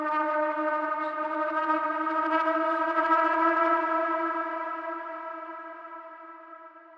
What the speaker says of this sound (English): I've really added a lot of echo onto this, as well as some slight detuning throughout.